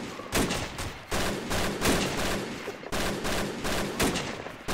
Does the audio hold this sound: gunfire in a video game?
yes